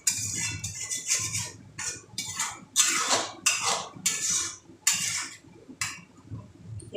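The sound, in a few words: spice paste being mixed with a little water in a pan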